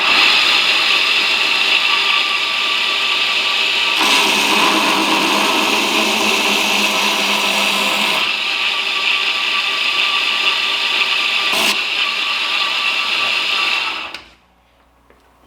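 A grinder works the bevels of a stock-removal knife blade, giving a loud, steady grinding whine that swells in two stretches and then cuts off just before the end.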